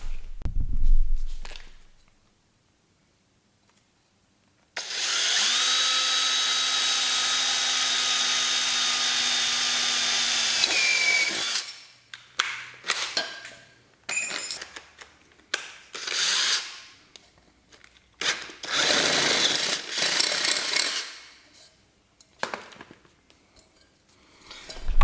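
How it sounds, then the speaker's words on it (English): A 10 mm bit drilling through aluminium in a garage, a steady loud power-drill whine for about six seconds that winds down, followed by scattered short bursts of drilling, clunks and handling noise. "10 mil drill bit to drill a hole out"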